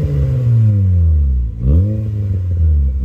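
A Honda CR-Z 1.5L hybrid with a six-speed manual, stock engine and aftermarket muffler revs up close, its deep exhaust note rising and falling, then dropping sharply and climbing again, alone and loud.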